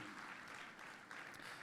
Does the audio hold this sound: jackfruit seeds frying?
no